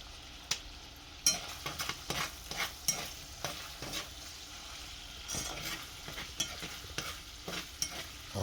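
Andouille sausage frying until crispy, previously boiled with corn and potatoes, with a soft steady sizzle broken by repeated stirring scrapes and light knocks in the pan, faint and close, with no talking.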